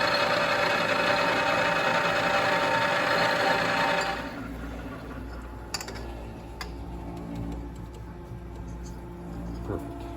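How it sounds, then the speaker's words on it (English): A metal lathe turns down steel spear parts, a loud, steady broadband machining roar for about four seconds before dropping to a quieter hum, with occasional sharp ticks and clicks from the workpiece. "So I'm just gonna lathe both of those just right there"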